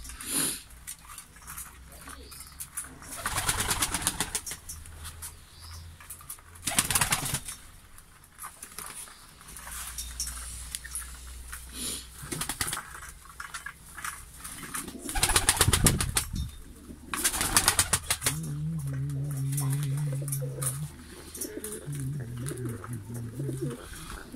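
Pigeons coo softly inside a loft at feeding time, their murmuring calls running under scattered loud rustles and bursts of handling noise, with occasional wing flaps nearby.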